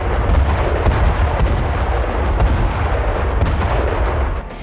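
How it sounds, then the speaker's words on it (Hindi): Artillery bombardment in southern Lebanon brings a dense, continuous barrage of booms and cracks that overlap into a steady roar, loud and without pause, with no voices heard. "दक्षिणी लेबनान के एटेरॉन शहर में भी बमबारी की गई"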